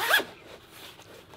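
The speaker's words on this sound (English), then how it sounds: "but you got a zipper on front," One quick, close zip of the front zipper on a Hidden Woodsmen haversack bag, crisp and loud, followed by faint handling rustle.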